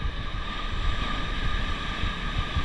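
Ocean surf off Nicaragua, a steady broadband wash of breaking waves with wind buffeting the microphone, loud and continuous for the whole stretch with no voices.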